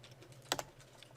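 Computer keyboard typing: a brief, close cluster of two or three quick key clicks in an otherwise quiet room, with no voices.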